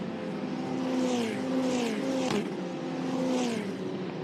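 Formula Regional open-wheel race cars at the 2022 Formula Regional Asian Championship, engines droning loud and sustained with rising and falling pitch as several cars race past together on a circuit, with no talk.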